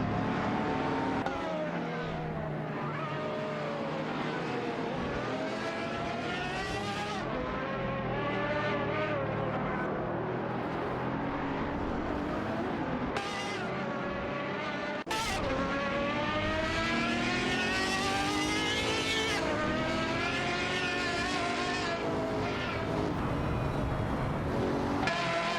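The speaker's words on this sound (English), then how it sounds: "Wayne 94 and Amy are maneuvering their B engineering Adonis against Butchie 0's Pagani Huayra BC in this intense race showdown." Race cars in a racing video game, including a Pagani Huayra BC against a B Engineering Adonis, engines screaming and shifting through rising and falling revs, loud and continuous with overlapping cars passing.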